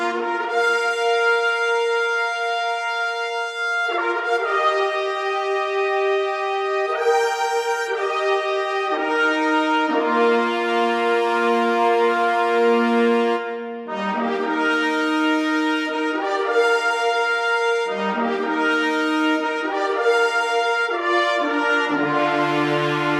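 Brass ensemble cue rendered with Vienna Symphonic Library brass samples: sustained, harmonically rich chords shifting through a progression, loud and continuous without speech.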